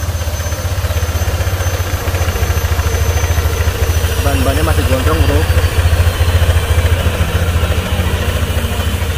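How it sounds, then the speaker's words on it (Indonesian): A Honda Vario 150 scooter engine idles steadily with a low, even hum while someone talks briefly over it, close to the microphone. "Nah ini suara mesin Vario 150."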